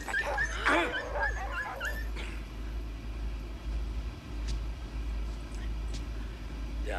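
Dogs scuffle and bark in a film, with sharp yelps and whimpers bunched in the first two seconds, then a quieter stretch of faint whines and rustling over a low steady background hum.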